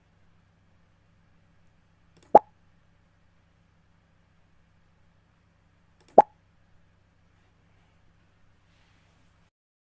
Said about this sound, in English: it should make a pop sound and it should show the picture